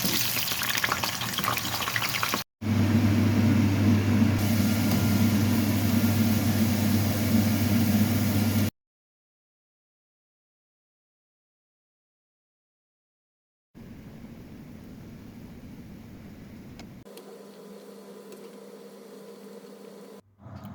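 Chicken, hotdog, potatoes and carrots sizzle in a frying pan for Filipino pork menudo, a steady loud crackling hiss that stops, falls silent for several seconds, then comes back softer and even.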